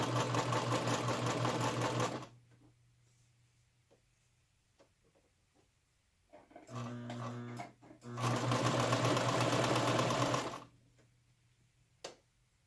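A sewing machine stitching fabric for a yarn cake keeper, running in two loud steady whirring bursts separated by a quiet pause with small clicks and handling noises.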